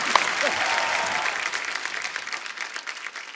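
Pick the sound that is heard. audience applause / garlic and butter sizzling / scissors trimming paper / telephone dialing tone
audience applause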